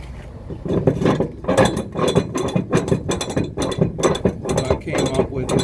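A load being tightened down on a flatbed trailer, giving a rapid series of ratcheting metallic clicks and clanks in a steady rhythm, close and fairly loud.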